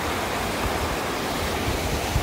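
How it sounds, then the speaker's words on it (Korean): A mountain stream rushes in Gucheondong Valley on Deogyusan, a dense, steady, loud wash of flowing water with no voices. "물소리 들으시면서"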